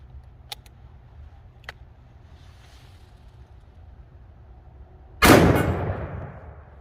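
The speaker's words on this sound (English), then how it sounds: "Smith and Wesson 500 Magnum with a Hornady FTX." Single loud blast from a Smith & Wesson 500 Magnum revolver firing Hornady FTX ammunition, sharp onset with a long rumbling decay outdoors, preceded by quiet ambience with a couple of small clicks.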